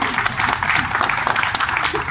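Audience clapping at the inauguration of a drum composter, a dense steady patter of many hands kept up for a couple of seconds at moderate loudness.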